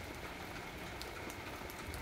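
Steady rain falls outdoors during a lychee harvest in Vietnam, a dense, even hiss with scattered drops ticking through it, continuous and fairly close, with no voices.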